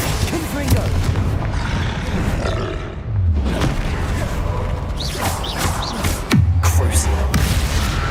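The Confringo explosive spell in the video game Hogwarts Legacy sets off repeated heavy booms and crashes in a combat scene. Grunts and a speaking voice cut in between the blasts.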